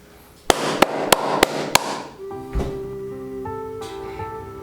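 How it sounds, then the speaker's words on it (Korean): Five sharp, evenly spaced hand claps ring out loud and close, followed by sustained musical tones that take over. "지금 박수 소리가 들리시죠?"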